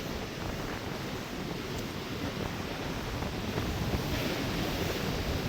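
Stormy sea surf pounds a shore after a cyclone, a dense continuous roar of breaking waves mixed with heavy wind buffeting the microphone, loud and unbroken throughout.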